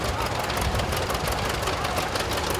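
An LP-fueled tractor runs at a 2019 pioneer village parade in Minnesota, its engine chugging and knocking in a steady, close, loud rhythm.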